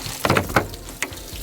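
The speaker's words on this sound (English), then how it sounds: "See water coming out from down there?" Water drains and trickles out from under an RV water heater, a soft steady splashing and gushing close by, with a few brief louder spurts.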